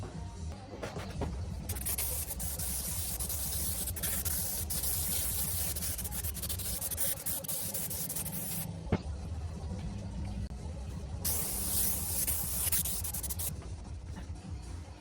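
Contact adhesive glue sprayed onto the headliner of a 20-year-old VW T5 van, two long continuous hissing bursts from a spray can with a brief pause between them, close and fairly loud.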